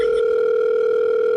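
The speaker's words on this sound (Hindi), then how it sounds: "एक ही बार फोन लगाऊंगा है।" While a phone call is being placed, a steady, continuous telephone dial tone holds clearly and alone, then stops abruptly at the end.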